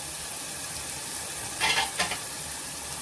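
Spices stir-fry in a pan for a cowpea and potato curry, a steady close sizzle broken by two quick scraping stirs, with no speech.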